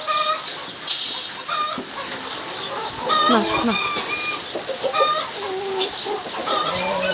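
Chickens and other poultry cluck and chatter close by while being fed wheat, with a few sharper calls standing out, and a person speaks briefly amid the flock.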